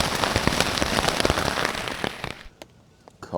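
Heavy thunderstorm rain drums steadily on a camping tent at a Georgia bushcraft gathering, a dense close patter that abruptly thins to a few isolated drips.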